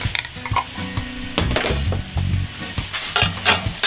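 Garlic cloves sizzle in a pot of beer cheese soup base, with a steady frying hiss under close, intermittent stirring and metal scrapes.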